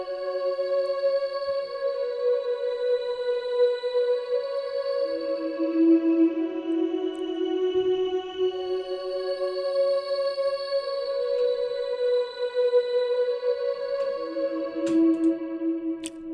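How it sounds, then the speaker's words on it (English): Omnisphere drone lead synth holds long sustained tones that glide between pitches, a smooth and steady layered pad with a faint echoing tail, played alone. "It's from Omnisphere. It's like a drone lead sound."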